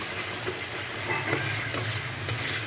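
Tomatoes fry in a pan for a pointed gourd curry, sizzling loudly and continuously up close while a utensil stirs and scrapes through them.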